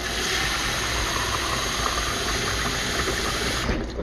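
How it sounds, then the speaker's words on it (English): Tap water runs steadily to rinse out a mug-style cup used for making hot cocoa, a continuous, close, hissing rush of water with no speech over it. "I'm going to rinse it out too."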